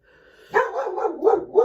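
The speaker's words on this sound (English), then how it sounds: "There goes the dog." A dog barks a few times in quick succession nearby, loud and sharp, with a short yelping, whiny quality and no talking over it.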